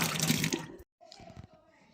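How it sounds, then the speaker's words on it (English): Running water flows in winter at Gorak Shep near Everest base camp, a short, faint trickling burst that cuts off and resumes more quietly. "Running water."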